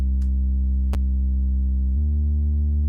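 A thick, gritty Moog synth bass note through a Decapitator saturation plugin drones with a harsh edge, punctuated by a couple of sharp clicks, then shifts to a higher note.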